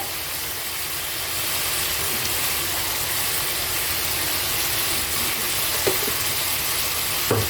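Chicken curry with fried potatoes sizzles and hisses steadily in a pan while being stir-fried, a continuous broadband frying noise with a couple of brief scraping knocks near the end.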